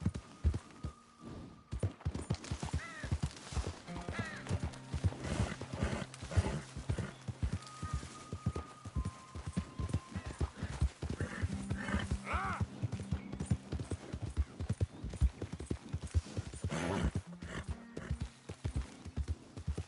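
Horse hooves clip-clop steadily while riding in Red Dead Redemption 2, a close, continuous rhythmic trotting with occasional whinnies and game music or ambience layered underneath.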